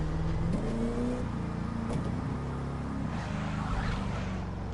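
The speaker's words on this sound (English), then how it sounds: "The shifting up noise, the upshift, does sound really good on this car." A Bugatti engine in The Crew 2 racing game, revving hard and loud with a stepped drop in pitch at each upshift, a steady droning roar throughout and no voices.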